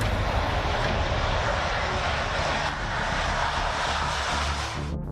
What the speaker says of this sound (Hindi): ताइवान चीन तनाव के बीच 6 ब्लैक ईगल विमान ताइवान के एयरपोर्ट पर उतरे।